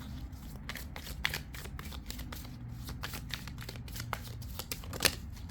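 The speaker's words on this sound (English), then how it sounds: "So let's pull some cards." Tarot cards are shuffled by hand up close, a quick train of crisp riffling flicks and soft slaps repeating steadily throughout.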